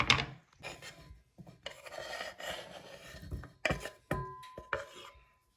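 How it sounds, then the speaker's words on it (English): A very small banana is sliced with a knife into quarter-inch rounds: a series of close, crisp cutting taps in an irregular rhythm, with a few sharper, louder strokes near the end and no talking. "I'm just gonna slice it into about 1/4 inch slices"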